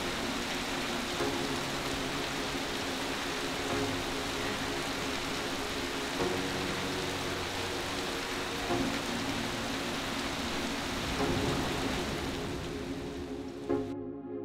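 Steady rain effect for an Unreal Engine 4 particle tutorial: a dense, even hiss of falling rain spread across the whole span, loud and continuous with no talking, cutting off abruptly near the end.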